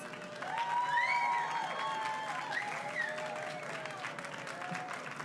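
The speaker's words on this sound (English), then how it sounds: "Can we give him another round of applause" Steady applause from a crowd at an Earth Day event in Times Square, New York, fills the whole stretch, even and sustained, with a few whistling tones riding above the clapping.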